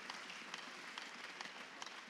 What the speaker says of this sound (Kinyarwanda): Tuyongeye amashyi tuyishimira iby'imbaraga yakoze.